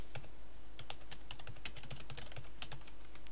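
Steady rapid typing on a computer keyboard with a loose L key, continuous close clicking keystrokes with no speech, over a low hum.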